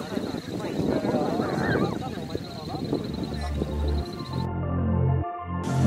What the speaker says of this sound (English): Look at the parrots flying through the air.